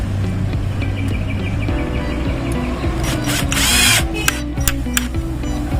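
A power drill drives a screw into a homemade cat scratcher, whirring steadily up close and then finishing with a few short sharp bursts and clicks. No one speaks.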